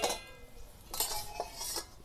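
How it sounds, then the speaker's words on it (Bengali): Plate used as a lid lifted off a pan of boiling eggs, giving a couple of light clinks of crockery against metal over a quiet bubbling background, no voices. "এবার ঢাকাটা তুলে দেখব ডিমগুলো সেদ্ধ হয়েছে কিনা"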